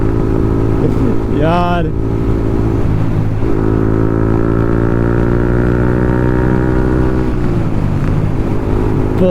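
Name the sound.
Yamaha MT 15 motorcycle with Akrapovic full system exhaust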